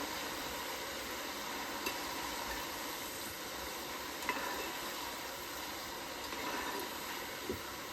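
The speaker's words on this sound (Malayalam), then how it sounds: "ചക്ക വറുത്ത് കോരി മഞ്ഞൾപ്പൊടി ഉപ്പുമാണ് ഇടുന്നത്" Jackfruit chips frying in hot oil, a quiet, continuous sizzle and hiss with a few soft clinks of stirring.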